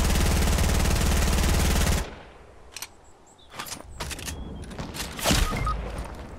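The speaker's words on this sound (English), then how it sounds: "I'm just laying down some fire to throw her off a little bit." Gunfire in Fortnite: a dense, loud automatic burst for about two seconds, then a scatter of sharp separate shots and cracks at varying distances.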